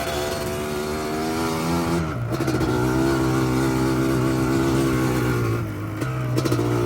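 A Yamaha Blaster ATV engine runs and revs hard close by, a loud continuous buzzing roar whose pitch drops and climbs between throttle blips, with no voices over it.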